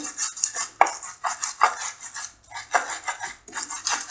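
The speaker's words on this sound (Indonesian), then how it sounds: "Bumbu-bumbunya dihaluskan dulu." Spices for corn fritter batter being ground, heard as a rhythmic series of scraping, clinking strokes of a pestle against a bowl, close and repeated about every half second.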